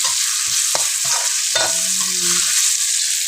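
Spices for beef tongseng stir-fried in a pan, a loud steady sizzle with scraping stirring strokes and clanks of a utensil against the pan, close up.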